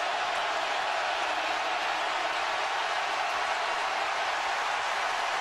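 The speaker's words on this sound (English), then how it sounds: "Crowd here can get a little noisy." A steady, loud roar from a packed college football stadium crowd at the 2011 Alabama Crimson Tide vs Arkansas Razorbacks game, a continuous wash of noise with no distinct voices rising above it.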